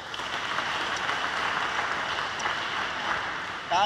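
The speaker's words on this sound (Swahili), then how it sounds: "Makofi na vigelegele hapo" A church congregation breaks into continuous applause during Mass, a dense, even clapping wash at moderate distance; ululation cannot be picked out clearly.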